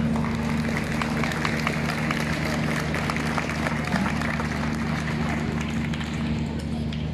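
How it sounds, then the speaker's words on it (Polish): Applause for athletes and coaches at a sports awards gala in Cieszyn: a steady, dense wash of clapping from a large indoor audience, sustained at an even level for the whole stretch without speech over it. "bardzo proszę o wielkie oklaski dla wszystkich zawodników i trenerów"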